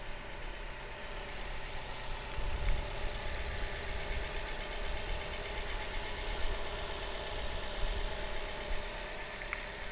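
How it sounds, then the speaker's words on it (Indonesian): A used car engine, one of the vehicles from a lot that includes a 2019 Sigra, 2018 Granmax, 2017 Innova V AT diesel and a Nissan X-Trail, idles smoothly and steadily at close range for the whole stretch, with a constant low hum and no talking. "Mesinnya masih halus, tidak ngelitik, tidak ada yang pincang."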